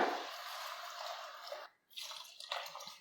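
Coconut milk pours into a pot with basmati rice as a steady, close liquid splash that stops abruptly, followed by a few small wet sounds.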